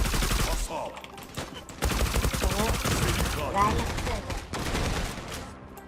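Automatic gunfire sprayed in bursts in the online shooter Zula, loud rapid rattling volleys broken by brief pauses, with a player's voice talking and laughing over the shots.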